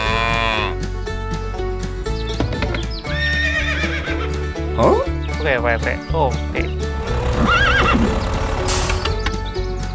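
Horse whinnies and clip-clopping hooves from a toy farm animal scene, mixed with cattle lowing and other animal calls over a steady busy backdrop, with brief speech.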